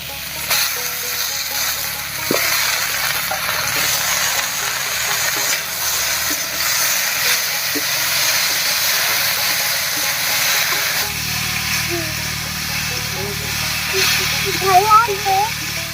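Dhenki greens dropped into a hot pan of fried vegetables for a Bengali dry fish curry, giving a loud, continuous steamy hiss that settles slightly quieter toward the end.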